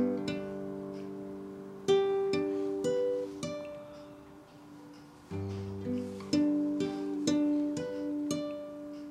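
Solo guitar fingerpicks a tune, with a steady thumbed bass under a plucked melody and ringing harmonics. The phrases are clear and close, with a short lull midway and no talking.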